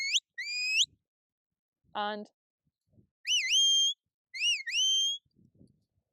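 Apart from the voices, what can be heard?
sheepdog command whistles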